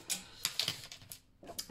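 Scissors trim the edge of a paper sheet with a few quiet, crisp snips and rustles, close and faint, spaced irregularly.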